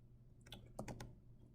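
Typing on a computer keyboard while entering a web address in a Word document; a brief run of soft, close key clicks in a quiet room, with a denser cluster of taps near the middle.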